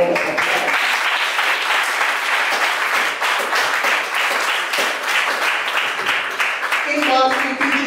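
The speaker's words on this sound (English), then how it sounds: "Let me hear you give her another round of applause." Loud, sustained applause from a large audience at a Baptist church graduation fills the whole stretch, dense and continuous, ending with a few shouts.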